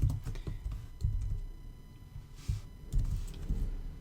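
Keys clatter on a computer keyboard while someone types programming code, a few quick close bursts with short pauses between them, moderately loud.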